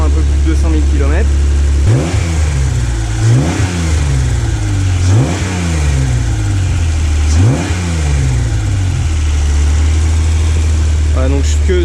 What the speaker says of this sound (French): on a vraiment une jolie sonorité avec cet échappement là